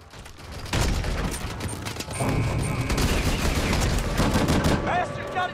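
Dense gunfire in the Advanced Warfare video game, rapid automatic bursts and shots layered continuously and fairly loud, with a voice briefly heard underneath.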